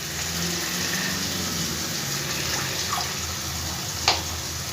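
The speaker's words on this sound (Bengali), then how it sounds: "এবার মশলা ধোয়া জল আমি এর মধ্যে দিয়ে দিলাম।" Spice-rinsing water is poured into a fried spice mixture in a pan for an eggplant kofta curry, giving a continuous close hiss and splash with a brief sharp clink near the end.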